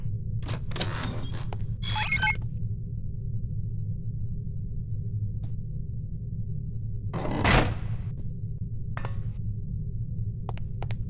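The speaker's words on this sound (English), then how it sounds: "now open the door to the next area" A door opens in the stealth game No One Lives Forever with a few short mechanical clatters, then a louder burst of clunking, all over a steady low ambient hum.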